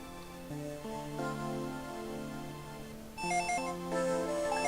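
A telephone rings in the Legacy of Goku 2 video game, a chiptune-like electronic ring from the next room, steady and fairly loud with repeating pitched tones and no voices.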